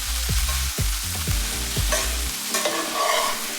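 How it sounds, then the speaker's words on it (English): Kale cooking in a pan with broth and fat: a soft steady sizzle with stirring scrapes, under a low humming tone that fades partway through, then a few close scrapes of the utensil. "The idea is to keep adding broth while the kale is cooking"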